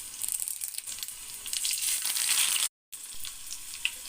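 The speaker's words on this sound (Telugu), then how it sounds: "ఆవాలు, జీలకర్ర, ఎండుమిరపకాయలు, వెల్లుల్లిపాయలు దంచుకుని వేసుకుందాం." Mustard seeds, cumin, dried red chillies and crushed garlic sizzle in hot oil for a tempering in a home kitchen, a steady bright crackling hiss broken by one brief silent gap.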